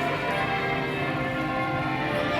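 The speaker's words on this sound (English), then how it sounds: "That bell is loud, so I guess it ring for an hour." A loud church bell rings out in a sustained, steady toll with a rich lingering hum that fills the space, heard alone without talking.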